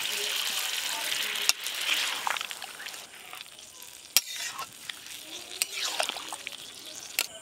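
More water goes into chili chicken frying in a pan, bringing a steady sizzle and scraping stirring strokes with sharp utensil clinks against the pan. A voice speaks briefly.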